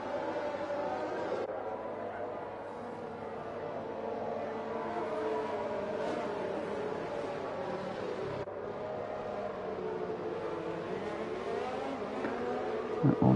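F1 video game racing car engines drone and whine steadily at moderate volume as several cars form up on the grid at Belgium, shifting pitch, under faint background chatter.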